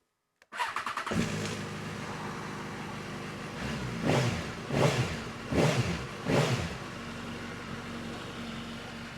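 A rebuilt superbike engine from a written-off, wrecked bike cranks and fires up, settling into a steady idle, then blipped through four sharp revs before returning to idle, close and alone without talk.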